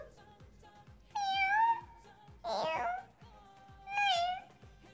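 A cat meows three times in drawn-out, rising and falling calls, loud and close, separated by short pauses over a steady low rhythmic background hum.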